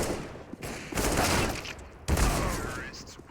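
Rapid bursts of gunfire from an AK rifle and a pistol in a CS:GO match on the Vertigo map, loud and dense with two distinct volleys, under a caster's excited commentary.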